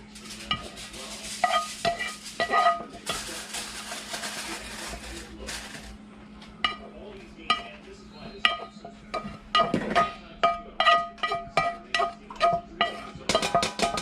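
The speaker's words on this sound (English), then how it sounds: "See how it's mixing fast?" A spoon stirring Rotel cheese dip in a pot, rapid repeated scraping and clinking strokes in an uneven rhythm, close and fairly clear, with a person talking over part of it.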